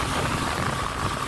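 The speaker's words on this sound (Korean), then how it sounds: "쟤 드론!" A camera drone flying overhead above an aluminum boat on the water, its steady, even whir continuous and fairly loud throughout the short stretch with no one speaking.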